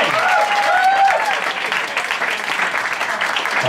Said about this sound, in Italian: E fate questo applauso però, dai.